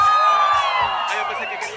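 Festival crowd in El Salvador shouting a cheer together, loud and close with whoops and high voices rising over a dense crowd roar, fading slightly toward the end.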